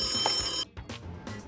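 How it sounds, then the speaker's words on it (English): A rotary telephone bell rings in a short burst, then breaks off into brief, fainter ring fragments. "A Rotary phone?"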